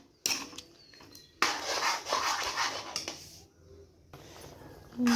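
Spoon scraping and stirring a thick wheat flour mixture (atar ghanti) in a pot, with bursts of broadband scraping and clatter, brief pauses between strokes, fairly close.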